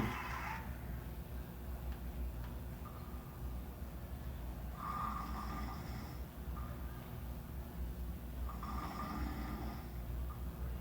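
Snoring plays back faintly in a large room, with slow, evenly spaced breathy snores about every four seconds over a steady low rumble of room noise.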